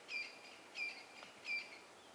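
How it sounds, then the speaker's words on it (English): Birds feeding on emerging termites at a termite mound on an African safari morning, giving a few short, bright chirps at regular intervals, faint and somewhat distant over a soft hiss. "Hear them chirping away."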